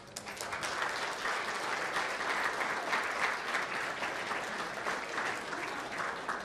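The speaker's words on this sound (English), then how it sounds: "Would you please rise for a round of applause" Sustained applause from a large crowd at a hall of fame induction ceremony, dense steady clapping heard from a distance, holding evenly throughout without speech.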